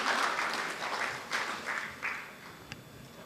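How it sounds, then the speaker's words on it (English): Steady applause from an audience at a legal conclave and awards event fills the space, swelling in waves and gradually tapering off. "Kindly keep the applause going as we thank our distinguished guest on stage."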